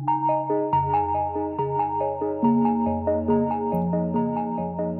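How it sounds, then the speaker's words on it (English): A bright synthesized melody of stepped notes, each one trailed by repeating echoes from a dub delay effect that blur into the next, playing steadily with no voices. "Here's the delay."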